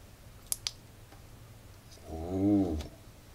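A small AliExpress LED light module with a metal keychain and USB-C charging port gives two sharp, close button clicks, then a low humming tone swells briefly afterward.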